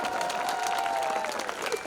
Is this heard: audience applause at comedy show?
yes